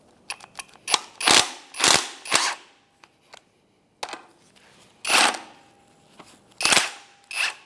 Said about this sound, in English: We're going to try and impact it with a 19 millimeter.